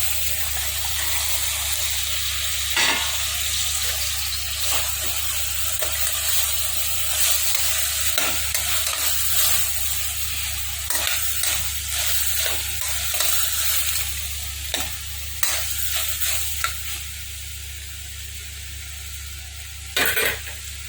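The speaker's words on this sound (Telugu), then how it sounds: "ఇప్పుడు మనం కట్ చేసి ఉంచుకొని గోరుచిక్కులు అందులో వేసేసేయాలండి" Cut cluster beans fry with onions in a pan, giving a steady sizzle throughout with repeated scraping stirs and occasional sharp utensil clinks, moderately close and without talk.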